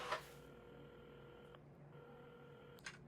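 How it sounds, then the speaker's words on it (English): A telephone in a video game is dialed, a short run of electronic key tones followed by a steady tone, quiet and close with no talking. "at the counter, Carmen had started dialing the phone"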